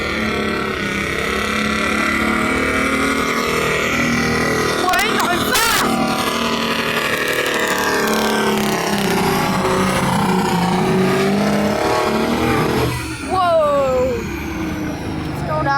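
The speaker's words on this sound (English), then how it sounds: "sounds like a motorbike" A pulling tractor's engine revs hard at a tractor pull, a loud sustained roar with rising, whining pitch and a sharp burst midway, under excited commentary and crowd noise.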